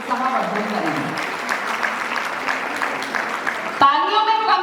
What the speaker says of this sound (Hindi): तालियों में कमी है, तालियां जोरदारी के साथ होनी चाहिए भाई